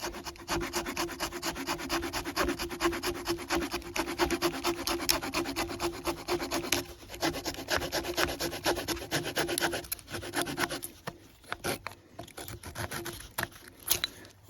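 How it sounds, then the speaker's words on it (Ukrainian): A multitool hand saw cuts through a hazel log, making steady rhythmic rasping strokes, close and continuous, with the pace slowing and turning more halting toward the end. "І ось таким методом опираємо колоду і буду пиляти і трохи надавлювати."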